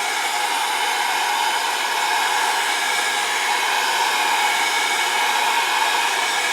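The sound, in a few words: heat gun drying paint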